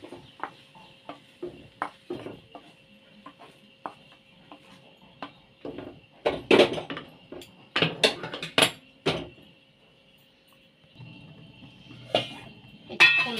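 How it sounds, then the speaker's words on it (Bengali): Boondi sweets being poured and stirred into a bowl, scattered light clinks and taps of a spoon against the dish, irregular and close, with quiet gaps between. "এই বাটিতে আমি ঢেলে দেব।"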